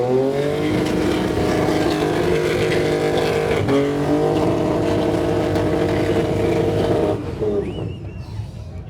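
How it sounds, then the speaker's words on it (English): Overkill, a car at Summernats, skids down Skid Row with a loud, sustained engine roar and screaming tyres that hold steady for about seven seconds, then fade into the crowd noise. "So we just seen Overkill just do a skid down Skid Row"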